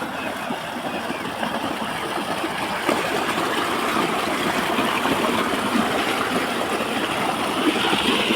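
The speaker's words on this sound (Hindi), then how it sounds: "बोर हुआ जो मोटर पड़ी है वो 100-150 फुट पर जाएगा पड़ा, तभी पानी आ रहा है" A borewell motor pump with its motor set 100 to 150 feet down pushes out water on a farm. The water gushes in a loud, continuous rushing splash, with a faint mechanical hum beneath it throughout.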